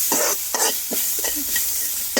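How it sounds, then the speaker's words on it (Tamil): Onion and fenugreek frying in hot oil, stirred in a series of short scraping strokes over a steady close sizzle, with no voices. "வெங்காயம் வெந்தயமும் போட்டு சும்மா ஒரு எண்ணெயில் போட்டு சும்மா வறுக்கிறது"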